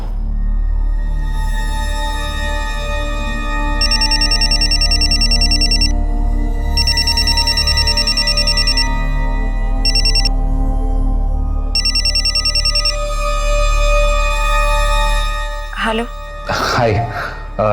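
A phone rings repeatedly during a call to a fiancée, bursts of an electronic ringtone with short gaps between them over a steady hum, ending in a few sharp clicks and rustles.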